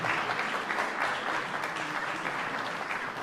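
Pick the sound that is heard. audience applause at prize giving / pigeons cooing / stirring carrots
audience applause at prize giving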